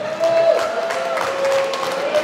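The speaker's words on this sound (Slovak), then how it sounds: "Zatleskáme, bolo to výborne." Audience applause at a hunters' ball in Orava, Slovakia: a steady wash of clapping and crowd noise throughout, with a faint sustained musical tone running beneath.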